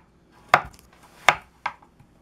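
A knife dices carrots on a cutting board in three sharp, close chops spaced unevenly over about two seconds, each a crisp thud against the board with quiet between.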